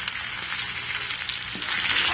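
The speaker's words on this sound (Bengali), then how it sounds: "মশলাগুলো দিয়ে সবজির সঙ্গে আমি আরও 2-3 মিনিট কষিয়ে নেবো।" Pumpkin and Malabar spinach sizzle in a hot pan with ginger paste, cumin powder and coriander powder for a Bengali-style chorchori, a loud, steady frying crackle with no talk.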